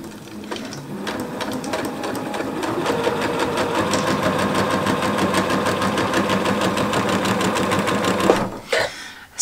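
A sewing machine stitches jelly roll quilt fabric strips in one steady, close, loud mechanical whirr lasting about eight seconds, then stops abruptly with a few brief clicks and handling noises.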